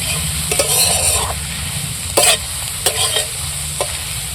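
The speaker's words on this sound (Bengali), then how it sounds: "দেখো সয়াবিনগুলো ভাজবে কত সুন্দর সয়াবিনগুলো লাগবে" Soybean chunks frying in hot oil in a kadai, a continuous sizzle broken by several sharp scraping strokes of a spatula stirring the pan, close and loud.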